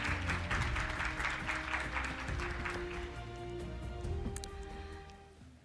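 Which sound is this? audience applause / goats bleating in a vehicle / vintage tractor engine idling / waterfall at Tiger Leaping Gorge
audience applause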